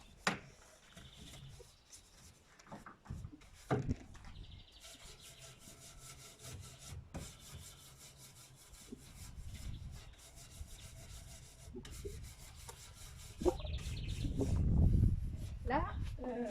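Old wooden writing desk being sanded by hand, a steady rasping, rubbing scrape that comes and goes in strokes, close and moderately loud, with brief voice sounds and a louder burst of scraping near the end.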